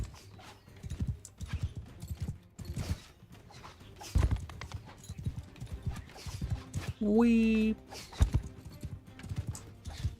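Horse galloping in the Mount and Blade game: quick, uneven hoof beats thudding at close range throughout, with a loud whinny near the end and a voice speaking briefly over them.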